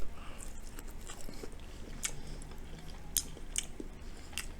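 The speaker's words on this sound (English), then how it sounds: "So I'm gonna try the cauliflower by itself, and I have a spoon." General Tso's cauliflower is bitten and chewed up close, with quiet wet crunches and a few sharper bites spread over a few seconds, no talking.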